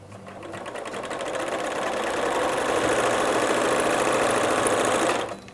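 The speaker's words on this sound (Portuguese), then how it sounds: "Então eu vou costurar ele na parte de trás, vou costurar ele aqui." A sewing machine stitches fabric for an Easter packaging piece: a steady, close, rapid mechanical buzz runs for about five seconds and then stops abruptly.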